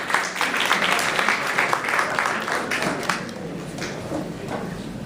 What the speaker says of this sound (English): A round of applause to the Delegate of Germany.